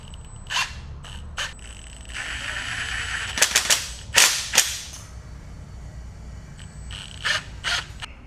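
Rack bolts being tightened on a Polaris Ranger 1500 aluminum modular rack, with bursts of rapid ratcheting clicks and metallic clatter separated by quieter pauses and faint background hiss.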